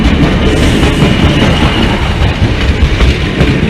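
Class 156 diesel unit 156403 from Leicester pulls into platform 5 at Lincoln Central, a loud, steady rumble of rolling stock and clattering wheels running throughout, with the expected wheel squeal not clearly standing out.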